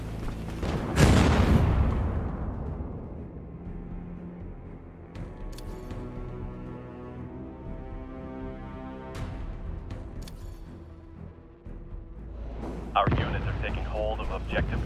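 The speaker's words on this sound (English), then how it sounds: "our artillery is commencing fire" Heavy artillery fire in a tactical military video game: a loud boom opens, followed by rolling rumble and scattered distant blasts, another sharp burst near the end, with a radio-style voice speaking over the battle.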